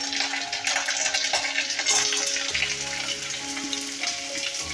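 Onion, green chili and curry leaves fry in hot oil in a home kitchen pan, giving a steady, dense sizzle that crackles on without pause and with no talking.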